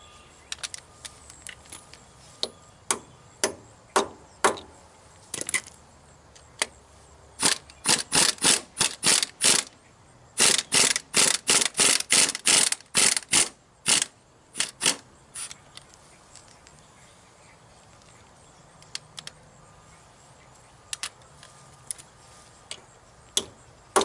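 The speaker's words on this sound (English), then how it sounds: "I'm going to turn it way down low, and maybe this vibration will work it loose." An impact wrench set low works on a valve fitting of a Bobcat 331 excavator, rattling in sharp rapid bursts, some long and dense, others scattered single clacks, close and loud with no talk.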